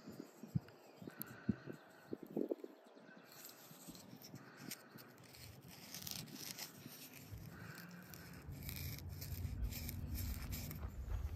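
A bow drill spindle, double-wrapped with a yucca bowstring, rubs against a pine board in a rasping, back-and-forth scrape that starts sparse and faint, then grows denser and steadier toward the end, with outdoor background noise.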